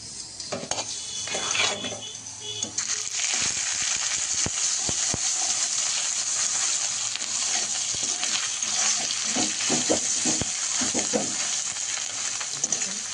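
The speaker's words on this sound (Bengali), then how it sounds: "এবার দিয়ে দেবো লবণ হলুদ মাখানো মাছের ডিমটা।" Fish roe coated with salt and turmeric frying in a pan with black cumin, a steady sizzle with scattered clinks and scrapes of a utensil stirring, close and continuous.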